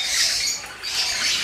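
A lutino opaline bird chick gives harsh, close, fairly loud squawks in two drawn-out bursts with a brief dip between them, and no talking is heard.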